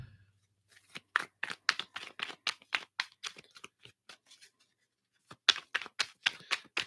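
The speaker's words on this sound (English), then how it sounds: "Let me just shuffle these up here." Tarot cards are shuffled by hand in two quick bursts of crisp riffling snaps separated by a short pause, close and quiet with no talk.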